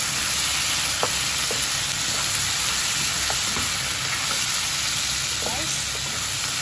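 Chicken seasoned with black pepper and salt fries in a pan, a steady close sizzle broken by a few light scrapes as it is stirred, with no talking.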